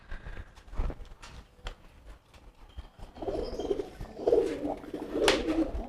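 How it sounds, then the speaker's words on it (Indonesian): Racing pigeons cooing softly at night in their enclosure, low murmuring calls that grow more frequent in the second half amid faint rustling and fluttering. "ini kedua merpatinya nih"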